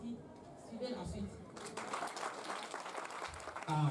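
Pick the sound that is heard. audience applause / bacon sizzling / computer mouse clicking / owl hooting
audience applause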